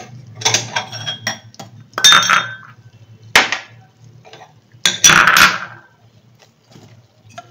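Ceramic bowls picked up and set down on a kitchen counter while making caramel for mango pudding, several sharp clinks and knocks in separated bursts, close and clear with quiet gaps between.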